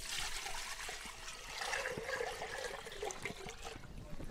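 Two litres of water poured into a cooking vessel for a dry ginger and milk drink make a faint, continuous trickling and splashing throughout.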